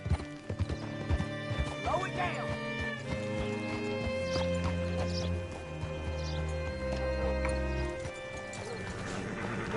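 Horse hooves clip-clop at a steady trot in Red Dead Redemption 2, with a neigh or whinny, a continuous musical score and a voice speaking over the ride.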